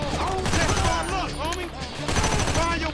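Gunfight in Grand Theft Auto V: steady rattling gunfire under voices, dense and continuous, with overlapping shots and chatter throughout.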